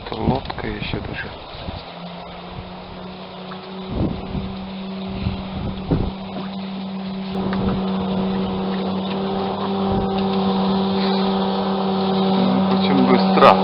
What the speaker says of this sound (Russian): Где-то лодка еще даже.